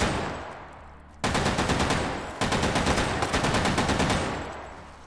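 A Thompson submachine gun firing in a video game, two sustained rapid bursts of fast, evenly spaced shots, loud and close, the second trailing off as the fire stops.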